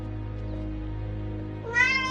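A low electronic hum drones steadily, then a brief, bright cat meow rises near the end, clear and close, in the Alfred Hitchcock Vertigo video game.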